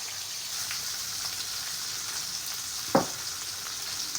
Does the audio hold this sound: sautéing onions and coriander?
yes